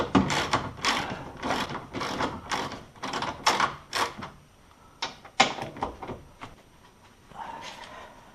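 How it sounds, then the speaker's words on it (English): A 13 mm socket ratchet loosens the strut top mount on a Porsche Cayman 987, giving a close run of quick, sharp clicking bursts in rapid strokes, then a few scattered clicks and a light shuffle. "loosen up the top mount here, and 10 millimeters, nope, 13 millimeter. Yes, 13 millimeter socket."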